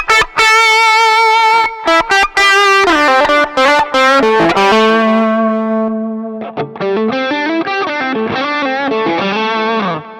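Harsh, buzzy distorted electric guitar through a Line 6 Helix modeler with the speaker cabinet simulation off plays loud sustained notes and quick riffs, sounding raw and abrasive with a thin, fizzy edge.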